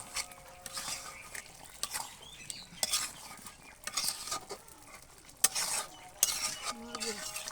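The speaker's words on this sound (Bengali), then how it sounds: "এখন আবার নাড়াচাড়া দিচ্ছে" Chicken curry being stirred in a pot over a clay stove, with a utensil scraping and clinking against the metal in irregular strokes over a soft sizzle, close and moderately loud.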